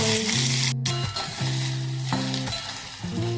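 Cumin and mustard seeds frying in hot oil for a Maharashtrian potato curry, with a steady close sizzle and crackle, a brief dropout near the start, and tonal hum from the stove or kitchen underneath.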